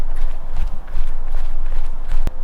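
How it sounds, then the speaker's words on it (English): Running footsteps on the ground captured through a Sennheiser MKE200 with a furry windscreen, a steady run of quick, close footfalls with breeze rumble underneath and no talking. "Here we go with a running test with the Sennheiser MKE200."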